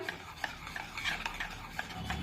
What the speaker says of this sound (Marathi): पुन्हा एकदा सर्व साहित्य व्यवस्थित मिक्स करून घेऊया